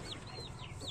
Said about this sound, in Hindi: मुर्गी हमारी खड़क बैठ गई